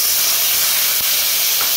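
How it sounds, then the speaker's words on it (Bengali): Potatoes fry in hot oil tempered with cumin seeds and whole garam masala, giving off a loud, continuous hiss of sizzling close up that holds steady throughout. "এরপরে আমি আলু দিলাম, আলুগুলোকে ভেজে নেব।"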